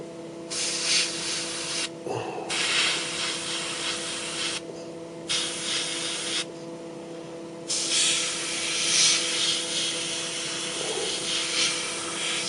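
Spray can priming terrain models, several hissing bursts of a few seconds each separated by short pauses, close and fairly loud over a faint steady hum.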